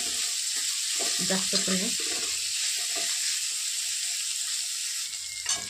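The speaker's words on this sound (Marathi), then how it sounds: "छानसं लाल होईपर्यंत भाजून घ्यायचं आपल्याला। कांदा लाल करायचा," Onion and garlic fry in hot oil until turning red, a loud steady sizzle with occasional stirring, while someone talks briefly over it.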